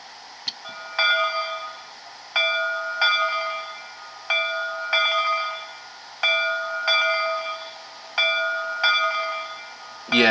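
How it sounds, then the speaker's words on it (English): A model locomotive's sound-decoder bell (loco 3422) rings in a steady repeating rhythm, about a dozen clear metallic strikes, each decaying before the next, close and alone without talk. "I like that bell. That's a nice bell."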